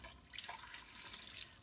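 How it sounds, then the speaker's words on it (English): A lab sink tap runs water to rinse calcium chloride solution down the drain, a soft, continuous splashing and trickling close by, with no voices over it. "use plenty of water to rinse the calcium chloride down the drain"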